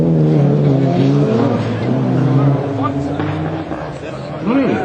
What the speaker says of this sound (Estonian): Imre Saks, number 9 Lancer, Mitsubishi Lancer Emo